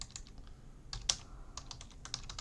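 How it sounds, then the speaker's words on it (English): A computer keyboard is tapped at a steady pace as a prompt is typed, light clicks with one sharper keystroke, quiet and close, and nobody talking. "type in the prompt"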